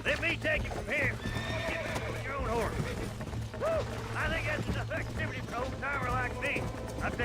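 Repeated sharp whinnies and neighs from a galloping horse in Red Dead Redemption, with hoofbeats clattering underneath, loud and near; a voice is heard alongside the game sounds.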